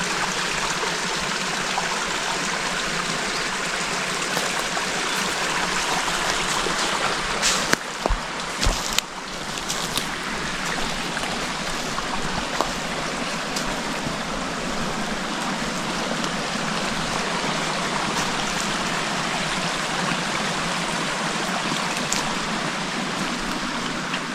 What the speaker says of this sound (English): Cascading water coming through.